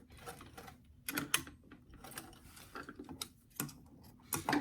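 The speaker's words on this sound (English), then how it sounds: "Once I get to the top of the front center seam, I'm just going to do a few back stitches to secure that." A sewing machine runs in short bursts as it makes back stitches along a doll dress seam, giving quick mechanical clatters separated by quiet gaps, close and fairly soft.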